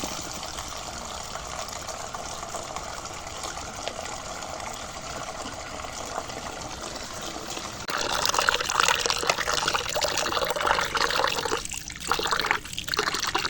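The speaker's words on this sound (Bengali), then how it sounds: "চাল চালে জল দিয়ে দেবো এবার ডালে জল দিয়ে দেবো" Water is poured onto soaking rice and lentils in a container, a steady close trickle that grows fuller and louder partway through, then briefly breaks off twice near the end.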